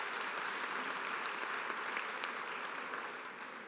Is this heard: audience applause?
yes